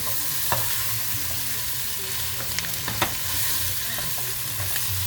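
A lamb stew pot being deglazed sizzles steadily while a utensil stirs and scrapes, with a few sharper clinks against the pot; close and moderately loud, no talking.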